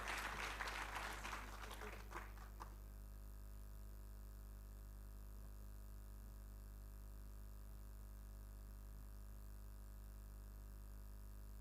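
An audience claps for an architect at a Nigerian Institute of Architects Abuja chapter anniversary gathering. Brief scattered applause fades within about three seconds, leaving a steady low electrical hum beneath a quiet hall.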